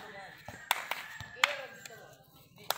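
Handclaps ring out at a volleyball game, a few sharp separate claps amid lively court noise and excited voices talking nearby.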